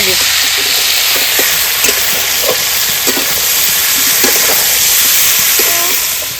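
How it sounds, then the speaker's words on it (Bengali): Chicken fries in a pan with crackled whole spices such as cardamom and cloves, producing a loud, close, unbroken sizzling hiss scattered with small pops and clicks. "এবার মাংসটা দিয়ে দেবো অন্যভাবে করবো তার জন্য মাংসটা প্রথমে একটু ভেজে"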